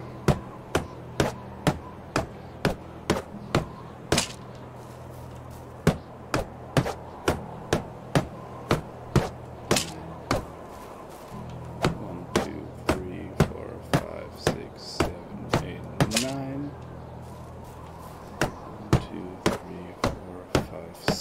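Steady, regular hammer blows ring out while building in the medieval survival game Medieval Dynasty, a long run of sharp close knocks with a brief pause near the middle, over faint background ambience.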